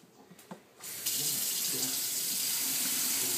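Tap water gushing into a bath, starting abruptly after a second of quiet and then pouring steadily and loudly from a nearby faucet.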